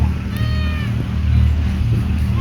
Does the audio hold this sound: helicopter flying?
no